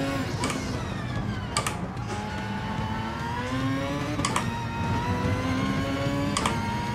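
Racing car engine in the Gran Turismo Sport game, a Vision GT car droning and whining steadily through gear changes, with periodic sharp clicks, loud and continuous throughout.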